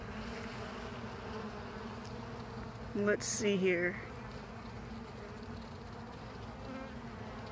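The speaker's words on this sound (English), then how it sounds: "What I'm just doing is moving these bees away." Honey bees crowd a hive frame, giving off a steady, low, even buzz throughout. A person speaks briefly partway through, over the hum.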